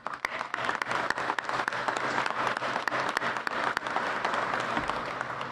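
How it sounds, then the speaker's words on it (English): A room full of people applauds at a ribbon cutting for a manufacturing academy in Illinois, a dense, even wash of clapping that holds steady throughout. "you should give yourselves a round of applause"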